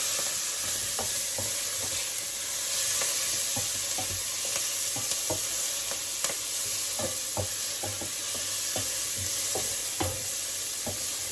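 Ingredients for Jamaican curry mutton sizzle steadily in a pot, a constant frying hiss broken by frequent light clicks and taps of stirring, close and continuous with no talk.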